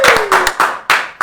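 A short burst of clapping from a small studio audience during a live talk show, several loud separate bursts of hand claps with brief gaps between them.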